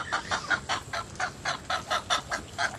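Rapid, rhythmic quacking from ducks, about a dozen evenly spaced calls close by with no talking.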